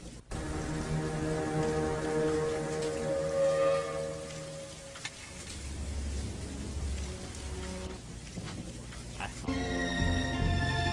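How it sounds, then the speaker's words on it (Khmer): Steady rain falls outdoors as a continuous hiss with a faint low rumble, while a sustained musical tone sits underneath throughout. "អូនឃើញធ្លាក់ភ្លៀងហើយ"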